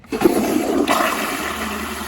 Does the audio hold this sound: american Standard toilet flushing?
yes